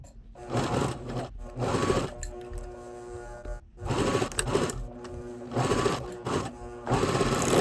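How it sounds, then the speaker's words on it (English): A sewing machine or serger stitching a seam on fabric for custom boxers, running in several bursts of rapid mechanical whirring separated by short pauses, close by. "take this over to your sewing machine or serger, and you're gonna sew at a 3/8 seam allowance"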